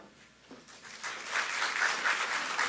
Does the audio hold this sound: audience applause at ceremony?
yes